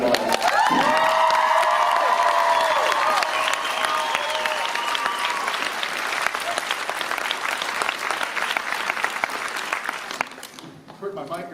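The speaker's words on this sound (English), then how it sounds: "you should give her a round of applause." A large crowd breaks into loud, sustained applause with whoops and cheers rising at the start, then clapping continues steadily before thinning out near the end.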